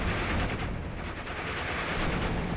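An M3 half-track's .50 caliber machine gun firing in the Steel Division: Normandy 44 strategy game, a dense, continuous stream of shots under distant battle noise.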